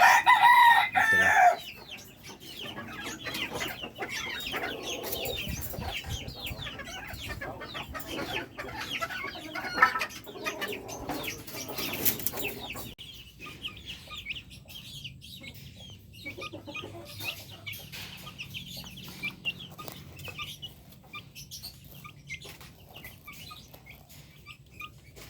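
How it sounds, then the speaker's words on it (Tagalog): Chickens on a farm cluck and cheep continuously, with a crowing rooster near the start and busy poultry sounds filling the background, fainter in the second half. "Yan ang ating mga sisiw, mga ano, first batch na sisiw."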